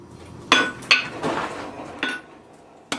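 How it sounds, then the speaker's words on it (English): Blacksmith's hammer drawing out a hot metal bar during forging strikes in sharp ringing metallic blows, four or five irregularly spaced hits close by with no talk. "we're going to start drawing out the bar by just changing the position of the hammer slightly."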